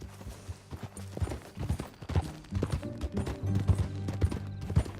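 Horse hooves clip-clop in a steady, close rhythm in the video game Red Dead Redemption 2, with a few light mechanical rattles mixed in.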